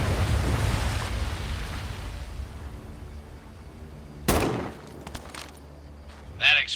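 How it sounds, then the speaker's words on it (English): A single sharp explosion bursts out partway through a World War 2 video game scene, following a low, rumbling ambience, with a smaller crack near the end. "That explosion got the attention of all the German patrols in the area."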